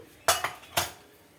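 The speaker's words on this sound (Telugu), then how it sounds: "నూనె పాగుతుంది. ఆవాలు 2-3 స్పూన్స్ వేస్తున్నాను" A metal spoon adds mustard seeds to hot oil in a pan, tapping the rim in two sharp, close clinks with a short gap between them, then quiet.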